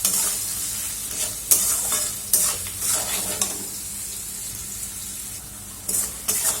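Tomatoes with salt frying in a pan, a continuous sizzle broken by sharp spatula scrapes and clacks at irregular intervals, close up and without speech.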